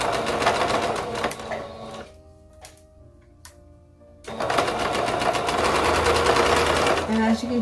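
A sewing machine stitches a binding strip around a curved seam on a knit romper, running in a fast steady rattle that stops for a couple of seconds with a few clicks and then resumes loud and close.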